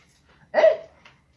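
Dog gives a single short bark or yip, close and clear, against near silence.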